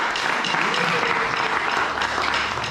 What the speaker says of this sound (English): Give yourself an applause because you guys are awesome.